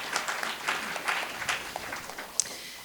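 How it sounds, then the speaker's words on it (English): A brief, scattered round of applause at a panel event, a small audience clapping in loose bursts at moderate distance with no talk over it. "So, yes, let's give a round of applause for those."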